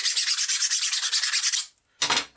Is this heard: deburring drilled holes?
yes